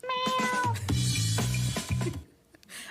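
A cat meows in a Super Bowl commercial, a drawn-out close, loud call rising then settling into a sustained whining tone with a couple of shorter follow-up meows, heard on its own.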